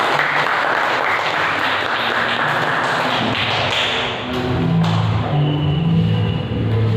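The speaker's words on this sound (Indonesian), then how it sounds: "saya persilakan tepuk tangan yang meriah" An audience claps for Krisna at an Islamic school gathering, a mix of taps and thuds with a brief lull midway before the clapping swells again, alongside faint background voices.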